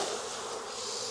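Honey bees buzz around an open hive at close range, a steady dense drone with no break, fairly faint.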